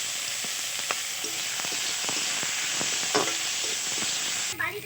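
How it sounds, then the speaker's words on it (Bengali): Potatoes and figs frying in a pan with salt and turmeric, a steady close sizzle broken by scraping, clacking stirs of a utensil, with no talking. "আলু আর ডুমুর একসঙ্গে আমি ভেজে নিয়েছি"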